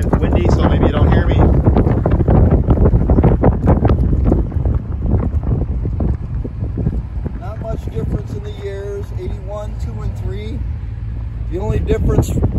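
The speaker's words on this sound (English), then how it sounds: "it's windy, so maybe you don't hear me" Strong gusts buffet the microphone beside a DeLorean parked outdoors with its doors and engine compartment open, a continuous rumbling roar with voices breaking through intermittently.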